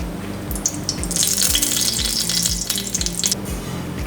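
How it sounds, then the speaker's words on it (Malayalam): Sunflower oil heats in a hot uruli pan on a stove, giving a steady close sizzle and crackle that runs the whole time, over low rhythmic knocks, with no talking. "നമുക്കതിലേക്ക് സൺഫ്ലവർ ഓയിൽ ഒഴിച്ചു കൊടുക്കാം"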